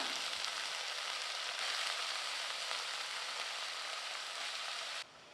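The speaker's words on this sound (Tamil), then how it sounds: "இப்போ வெங்காய பச்சை மிளகாய் எல்லாமே நல்லா வதங்கிருச்சுங்க" Continuous close sizzling of onions and green chillies sautéing in a pan, a steady crackle that stops suddenly just before the end.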